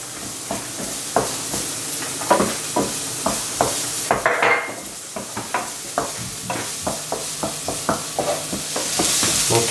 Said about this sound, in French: Avec l'ail, l'oignon. Voilà, qu'on va juste, pareil, faire saisir rapidement.